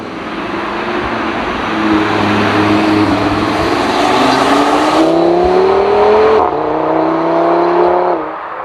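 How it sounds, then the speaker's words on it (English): An Audi RS3 accelerates hard after a downshift to fourth gear, its engine note rising steadily in a loud, close, continuous roar, then dropping at a gear change before tailing off. "Change down, 4th gear, very responsive, and it just wants to go."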